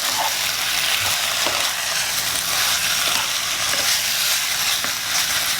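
Pork fat with meat attached rendering in hot oil into crackling, a dense continuous sizzle and bubbling at close range with no talk.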